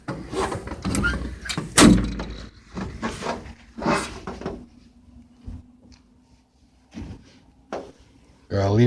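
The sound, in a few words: opening doors on Hitachi EX1200-6 excavator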